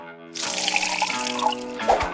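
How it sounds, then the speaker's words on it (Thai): A glass of water is poured into a blender already holding apple, orange, kiwi and honey, making a short, bright splashing gush that runs for under two seconds, close and fairly quiet, with no talk. "เทน้ำหนึ่งแก้ว"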